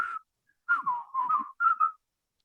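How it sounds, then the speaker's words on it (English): Someone whistles a short tune in a few clear phrases with brief gaps between them, close and alone. "Come on, you two. Whistle."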